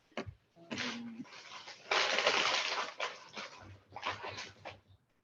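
A dog whimpers and whines indoors in soft, breathy bursts, with a brief squeaky tone early on and a few low grumbles near the end.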